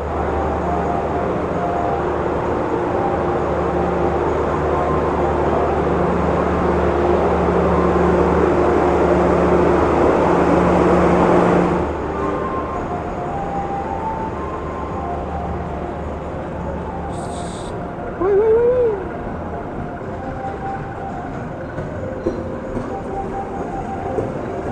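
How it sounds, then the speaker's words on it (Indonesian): The Sri Tanjung passenger train departing Jember station, a loud steady rumble and engine drone heard from on board for about twelve seconds, then a quieter running noise with a brief sharp squeal or horn near the eighteen-second mark. "kereta api Sri Tanjung diberangkatkan kembali dari stasiun Jember, melanjutkan perjalanannya ke tujuan akhir"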